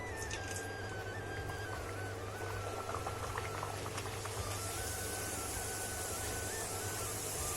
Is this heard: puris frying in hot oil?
yes